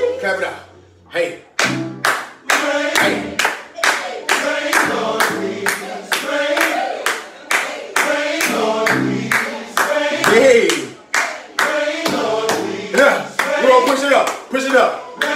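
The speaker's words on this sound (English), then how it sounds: "Clap it out." Rhythmic hand clapping during a live dance cardio workout, sharp evenly spaced claps keeping a steady beat close by, with a voice calling and singing over them throughout.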